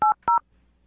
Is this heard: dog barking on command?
no